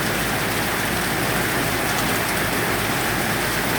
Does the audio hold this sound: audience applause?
no